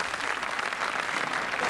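Studio audience applause fills a French TV variety show as a singer is welcomed, a dense steady clapping wash that stays loud and even throughout without pause.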